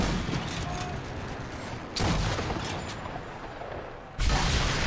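Gunfire in Sniper Elite III, with a half-track and a mounted gun in the fight: dense bursts of shots at a steady loud level, with sharp fresh volleys near the two- and four-second marks and no talk.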